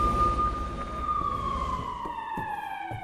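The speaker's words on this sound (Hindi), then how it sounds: "इजराइल के एलात शहर में सायरन बज रहे हैं।" Emergency sirens wail in Eilat, Israel, during a missile attack, a steady high tone sliding slowly downward as other siren tones layer in, loud and continuous over low background rumble.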